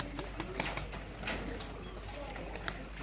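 Champion racing pigeons coo softly and flutter their wings close by over a low background rumble, with a few faint clicks and short wingbeat bursts.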